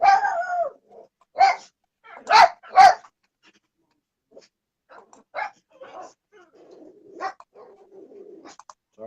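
A dog lets out a few sharp barks in quick succession near the start, followed by scattered quieter sounds and bits of talk.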